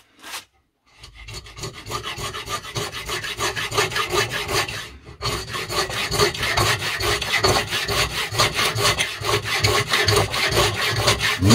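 Hand saw made from a broken band saw blade cutting wood, fast rhythmic rasping strokes that run continuously and close after a brief pause near the start, loud and steady.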